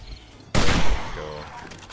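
Gunfire in the 7 Days to Die survival game, a single loud sharp blast that decays over about half a second, with faint game ambience around it.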